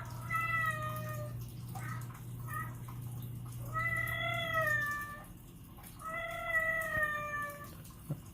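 Cats meow three times in long, wavering calls spaced a couple of seconds apart, close and clear, with a few softer chirps between them and a steady low hum underneath.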